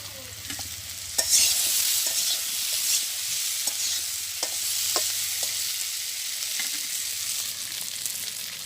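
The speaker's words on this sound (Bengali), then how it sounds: "এখন মাছ আর মরিচটা দিয়ে দিই।" Fish and chili sizzle steadily in a pan in a village kitchen while a utensil stirs them, with occasional sharp scrapes and clinks against the pan over the continuous frying hiss.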